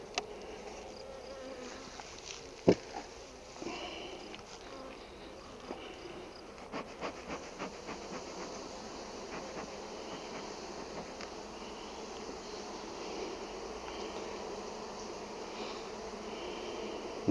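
Honeybees hum in a dense, continuous drone at an open hive during an inspection, with a few light knocks and clicks over the steady buzzing.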